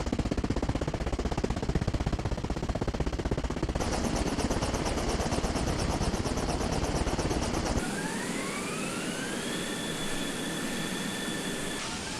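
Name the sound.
helicopter rotor and engine sound from video game Arma Reforger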